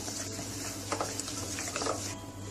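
Eggless cake batter with Eno being combined in a bowl, a steady wet stirring and whisking texture with soft scraping accents, close and continuous throughout without any talk.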